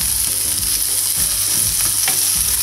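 Vegetables sauté in butter in a pan for a broccoli and carrot gratin, giving a steady, close, even sizzle and fry throughout, with light stirring noises and no talk.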